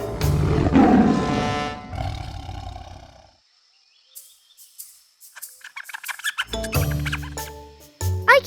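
A lion from a children's storybook about a lion and a little mouse gives a loud, sustained roar for about three seconds, then falls silent before bright musical chimes and light bird-like chirps follow.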